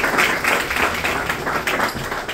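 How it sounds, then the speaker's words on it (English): A dense, steady wash of audience applause fills a community voter forum hall, continuous and fairly loud from start to finish with no voices standing out. "give them a round of applause, everyone"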